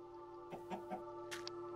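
A few soft clucks from a chicken in Minecraft, faint and brief over a steady background hum, followed by a short squawk.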